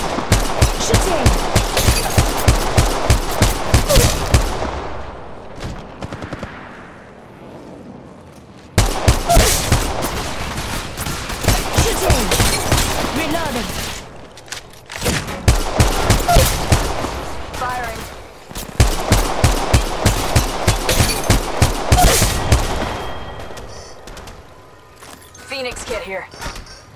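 Rapid automatic gunfire from the mobile battle royale game Apex Legends Mobile, loud bursts of shots in four long volleys separated by short pauses, with a voice speaking faintly under the shooting.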